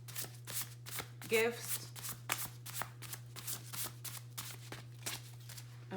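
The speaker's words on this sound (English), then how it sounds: "Let's shuffle again." Tarot cards are shuffled by hand in quick, rhythmic riffles and soft slaps, close and quiet over a low steady hum, while a voice speaks briefly.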